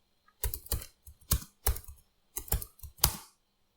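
Keys clatter on a computer keyboard in uneven bursts of two or three quick strokes separated by short pauses, close and clear against a silent background, no voices.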